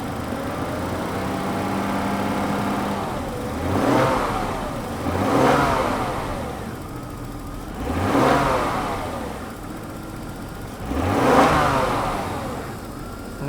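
Engine of an old Jaguar car that has been breaking down, revved four times from idle, each rev swelling and falling back to a steady, rough idle, close and loud with no talking.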